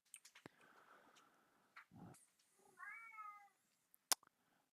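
A pet cat meows indoors, a few short, faint calls with a rising and falling pitch, along with quiet thumps and scuffles as it moves around.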